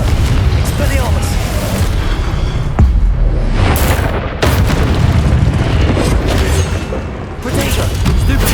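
Booming spell blasts from Confringo and Incendio in the Hogwarts Legacy video game, loud repeated explosive bursts and rumbling impacts in rapid succession amid battle noise, with a voice shouting spell names over them.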